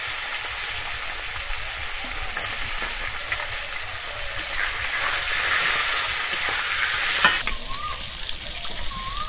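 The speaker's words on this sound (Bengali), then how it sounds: "আমি মাছটা কিন্তু একটু লাল করে ভেজে নেব।" Tangra fish frying in oil with turmeric, a loud continuous sizzle close by with occasional spatter crackles and a few scraping sounds.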